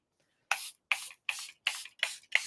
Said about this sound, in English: Then spray again one last time.